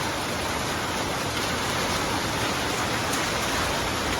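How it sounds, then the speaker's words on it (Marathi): Steady, dense monsoon downpour of heavy rain in Mumbai, a continuous loud hiss with no breaks and no voices. "असा एकदम जोरात पाऊस आहे"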